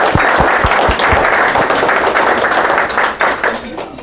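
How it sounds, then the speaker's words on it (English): An audience gives a round of applause for a presenter at a talk on quantitative risk assessment, dense clapping filling the room and tapering off near the end, with a few sharp claps standing out up close. "let's give Dave a big round of applause"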